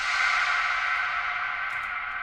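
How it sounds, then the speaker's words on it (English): A music sample, unwarped and pitched up, is drenched in heavy reverb with large size and density, giving a continuous washed-out, echoing sustained tone with no clear attacks, steady and loud throughout. "we're going to drench it in reverb"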